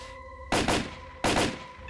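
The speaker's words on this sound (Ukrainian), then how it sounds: "Ми достаємо автомат і робимо постріл раз, постріл 2," Two bursts of rapid automatic rifle fire in the video game S.T.A.L.K.E.R., each a quick double crack, loud and close against a faint electronic hum.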